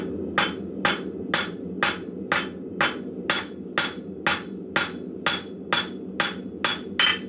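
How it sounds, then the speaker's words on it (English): Metal is hammered flat on the edge of an anvil with about fourteen sharp, ringing blows. They fall at a steady, regular rhythm, close and loud, with no talking. "Try and put a mark on it, and then just flatten it out on the edge of the anvil."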